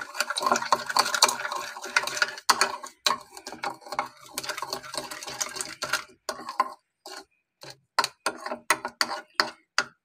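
A metal spoon stirs yeast and sugar in a bowl, rapid scraping and clinking at first, then slowing into separate taps and clicks against the bowl's sides, close and fairly loud.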